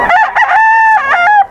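Close, loud rooster crowing at a poultry seller's market in Bocaue, one full cock-a-doodle-doo call with a drawn-out middle and clucky edges, heard alone.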